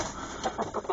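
Hens cluck softly inside a cold-weather chicken coop kept at about ten below zero Celsius, several short, irregular clucks close by over a steady low hum.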